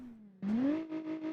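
A front-engine, rear-wheel-drive 1980s Japanese car in BeamNG gives a short engine rev, its pitch climbing sharply and then holding at a higher, steady drone, close and alone.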